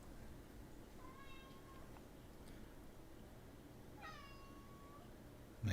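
A pet cat gives two separate meows a few seconds apart, clear and fairly close, over a steady low room hiss with nobody talking.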